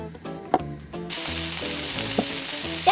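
Cooking oil sizzles in a miniature pan in a tiny kitchen, a steady hiss that starts abruptly partway through, following faint tonal background sounds and a few small knocks.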